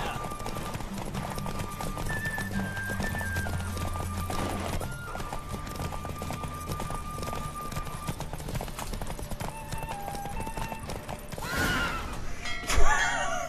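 A horse gallops with steady rhythmic hoofbeats and neighs in The Witcher 3, close and continuous alongside game music, with a sharp whinny near the end.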